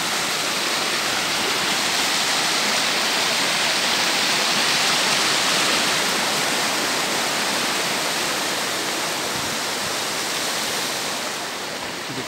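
A mountain river near the Butakovsky waterfall rushes loudly and continuously, a dense, even roar of flowing water with no voices.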